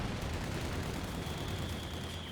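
An M1919 machine gun firing in the video game Company of Heroes 2, a dense, continuous rumble of rapid gunfire and battle noise, loud and unbroken throughout.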